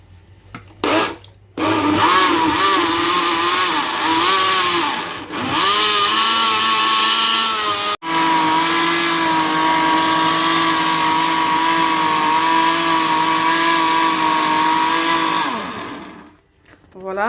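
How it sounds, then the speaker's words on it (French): Blender motor whirring loudly while mixing homemade Danao juice, a short start and stops, then a long sustained run with shifting pitch before cutting off near the end; brief voices at the start. "maintenant on va mixer."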